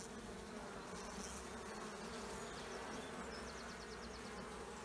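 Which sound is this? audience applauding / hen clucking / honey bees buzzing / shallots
honey bees buzzing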